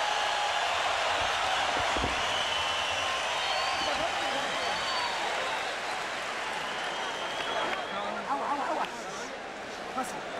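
A boxing arena crowd at the Jorge Arce vs. Hussein Hussein fight roars and cheers in a steady, loud wash of noise, dipping slightly near the end, with voices mixed into the din.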